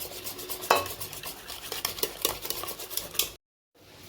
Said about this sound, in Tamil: பால் ஊற்றி கலக்கிடலாங்க